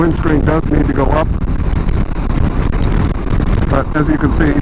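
Wind roaring past a rider on a Honda CB500X motorcycle on the freeway, a loud continuous buffeting rush over the engine hum, with someone talking at the start and end.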